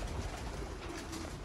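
Golden pigeons coo softly in a steady stream of low, murmuring calls over a constant rooftop background hiss.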